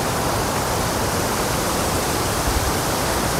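River water rushes strongly at a crossing near Veer Devpat waterfall, a dense, loud, unbroken roar that fills the whole scene with no other sounds.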